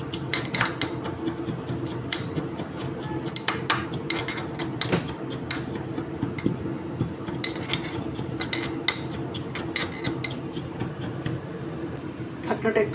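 Pineapple being chopped with a knife on a board for a sweet-and-spicy chutney, giving repeated sharp, irregular knocks and clinks at close range over a low steady background hum.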